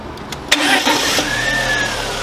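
A 1998–2004 VW Passat B5 engine cranks briefly, then catches and settles into a steady idle, loud and close, alone without talk.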